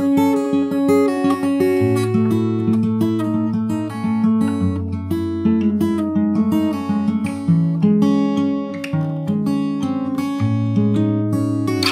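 Fingerstyle acoustic guitar plays the ending of an emotional chord progression: a riff and layered picked notes ring steadily for the whole stretch, close and clear, with no voices.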